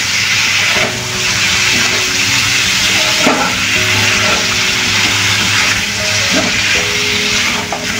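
Ginger and garlic fry with salt, turmeric and nigella seeds, giving a loud, steady sizzle and hiss close by. Faint clinks and tonal hums sit beneath the frying throughout.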